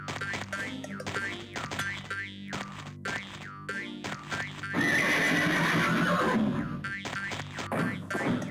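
In the Alone in the Dark 3 video game, a frightened horse near a saloon lets out a loud, drawn-out whinny midway through, surrounded by twangy game music and sound effects.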